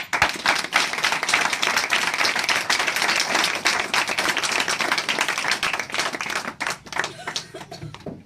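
Congregation clapping together at a church worship service, loud and steady rhythmic applause filling the room for several seconds before trailing off into scattered claps.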